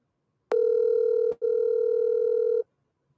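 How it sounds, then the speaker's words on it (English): Ringback tone on an outgoing telephone call: a steady, loud electronic tone sounding about a second, a brief break, then another longer tone, alone with no talking. "It's ringing."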